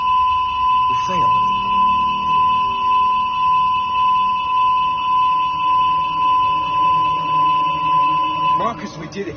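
Steady electronic alarm ringing inside the Detroit: Become Human video game, a loud continuous tonal blare holding for several seconds with brief rumbling disturbances near the start and end.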